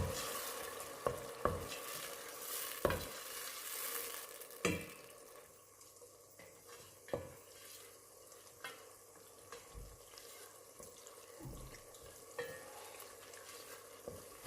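Ginger fries in a pan for a stew of coconut kidney beans: a low, quiet sizzle with sharp clinks and scrapes of a utensil stirring at irregular intervals, and no speech.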